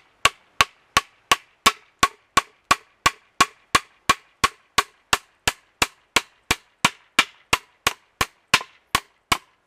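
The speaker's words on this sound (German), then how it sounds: "jetzt haben wir hier den Nagel durchgeschlagen" An OKNIFE Otacle A1 hammer drives a nail into beech wood with about two dozen sharp, evenly spaced blows, loud and close, each a crisp crack with a short ringing tail, no voices.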